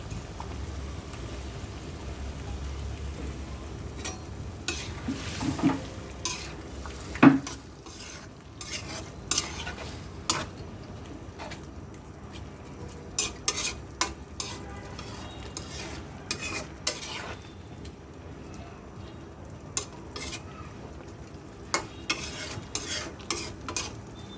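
Large bila fish, some holding roe, fry in mustard oil in a pan under a low steady sizzle, with repeated sharp spoon clinks and scrapes scattered throughout.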